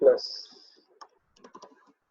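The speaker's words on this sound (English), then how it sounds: "I'm typing" Computer keyboard typing while Java code is entered in the BlueJ editor: a few soft, scattered keystroke clicks after a brief opening noise, faint and fairly close.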